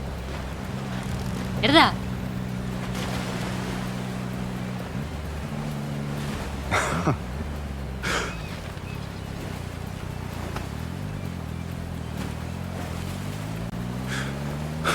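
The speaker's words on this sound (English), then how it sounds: "estar en una moto de agua" A jet ski's engine drones steadily in a Love & Deepspace ride scene, its pitch shifting as the throttle changes, with brief whooshes of water spray and people talking over it.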